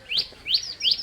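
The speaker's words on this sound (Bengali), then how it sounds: "পাখিও ডাকে, ছোট ছোট পাখি," Small birds chirp in Abi River Park, Brahmanbaria, giving three quick, evenly spaced high tweets, close and clear over faint outdoor ambience.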